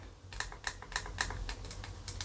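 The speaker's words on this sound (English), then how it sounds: "when performing the clicks is there is a bit of creaking" Clicks on a ProtoArc XK02 folding Bluetooth keyboard with built-in trackpad: a quick run of about a dozen close, crisp taps in an uneven rhythm, with slight creaking under a low steady hum and no talking.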